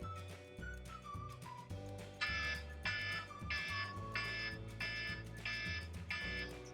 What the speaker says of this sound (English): Seems like I always have an alarm going off when I'm doing a tutorial.